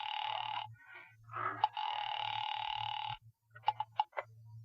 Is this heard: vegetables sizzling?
no